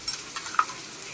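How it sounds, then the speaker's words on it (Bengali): Spice paste of ginger, garlic and chili frying in a pan for a chicken curry, with a low steady sizzle and a few soft stirring scrapes over about a second. "মশলাটা 15 থেকে 20 মিনিট ভালো করে ফ্রাই করে নেব।"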